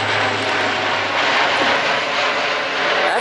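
A fixed-wing propeller airplane passes overhead outdoors, its engine drone loud and steady for several seconds with a gentle swell and fade, no voices.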